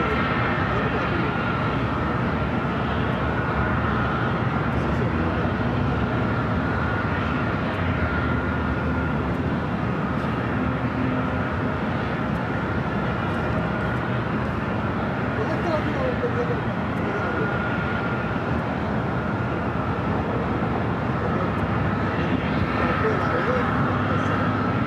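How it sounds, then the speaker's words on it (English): A Boeing 777-300ER taking off from runway 25 right at LAX gives a sustained, broad engine roar that holds steady throughout, with a person talking over it. "that 777 to 300 ER, taking off on the south side at runway 25 right."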